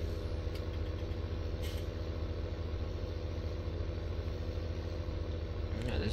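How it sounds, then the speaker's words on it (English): A tractor engine in Farming Simulator 2017 on the Sandy Bay map runs with a steady, close, low mechanical drone and light clatter, continuous with no break. "Yeah, this is pretty much my auto vehicle, this tractor"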